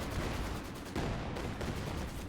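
An MG34 machine gun rattles in Company of Heroes 2 amid a busy battlefield, with rapid bursts of fire blending into steady background explosions and gunfire.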